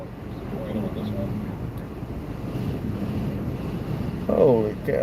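Strong wind gusts during a storm with tornadoes in Iowa, a steady rushing buffeting roar over the microphone, with a voice briefly speaking near the end.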